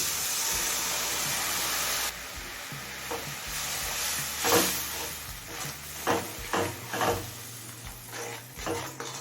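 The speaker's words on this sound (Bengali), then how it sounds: "জল দিয়ে সমস্ত মশলা ভালোভাবে মিশিয়ে নিয়েছি" Ground spices with a little water for chicken liver curry being stirred in a pan, a steady sizzle that thins out, followed by a series of close scraping stirs at irregular intervals, with no voices.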